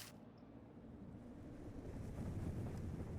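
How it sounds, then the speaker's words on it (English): Wind blows through the horror video game Death Mark as a steady, low, hollow rumble that swells slightly toward the end, with no voices over it. "It was the wind, or water leaking from the roof or something."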